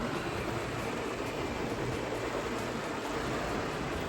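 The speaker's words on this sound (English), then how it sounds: "It is raining." Steady rain falling outside, a soft even continuous hiss with faint patter, moderately distant and unbroken.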